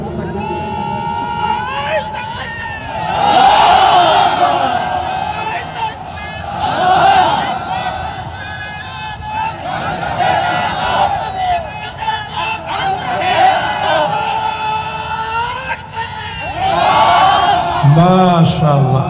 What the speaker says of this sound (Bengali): একেবারে সাতক্ষীরার মতো তাকবীর হয়েছে